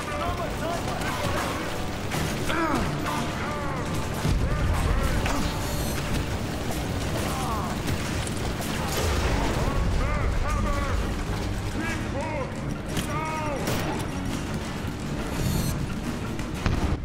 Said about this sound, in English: Oh, the mortar must be that giant mechanical thing